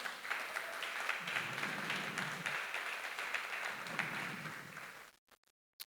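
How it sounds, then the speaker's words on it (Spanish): Congregation applause at a Spanish-language church service, a faint but steady patter of many hands clapping in swells that stops abruptly near the end, leaving near silence. "Dale un aplauso al Señor."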